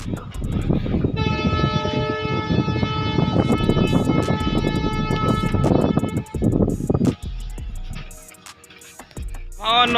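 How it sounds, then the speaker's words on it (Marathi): A passenger train rumbles loudly and steadily across a bridge, its horn blaring in a long sustained tone, then the noise breaks up and fades near the end. "रेल्वे जाईल आता बघू शकता आता ही गाडी कुठून जाईल"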